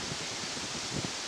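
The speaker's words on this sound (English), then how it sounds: "that wind's blowing now, isn't it?" Wind blowing outdoors by a lake in France's Champagne region: a steady, fairly faint broadband rushing hiss with soft gusty fluctuations, as of air buffeting the microphone, and no voices.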